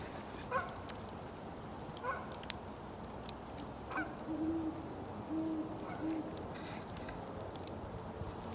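Owls hooting at night at a late-winter campsite, soft low hoots drifting in from a distance in a short repeated series, with a few fainter calls and scattered clicks over constant background hiss.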